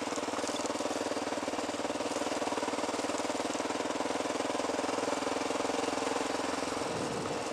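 A motorbike engine labours steadily up a rough trail, its dense, loud rumble continuous throughout with a rhythmic pulsing. The tone shifts near the end as the engine note changes.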